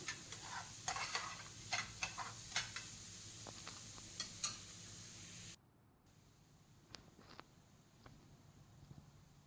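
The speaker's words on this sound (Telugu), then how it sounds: "ఆనియన్ కూడా బాగా ఫ్రై చేసుకోవాలి" Chopped onions frying in a pan, with a continuous hiss of oil and scattered stirring clicks and taps, close and faint, dropping to a quieter sizzle partway through.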